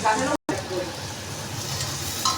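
Ginger paste meets chicken in a hot pan, giving a steady, close sizzle and frying hiss with light stirring. A voice talks over it at the start, and there is a brief cut early on.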